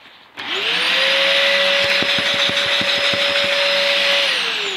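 A Dyson DC04 limited edition vacuum cleaner switches on and runs at full suction, a loud, close, steady motor whine with a rising tone at start-up and a rhythmic ticking rattle partway through, with no talking.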